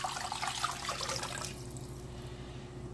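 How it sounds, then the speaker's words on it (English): Liquid marinade for an Asian-inspired roast pork shoulder pours steadily over the meat for about a second and a half, then fades to a quiet hum. "we'll just pour our marinade right on top"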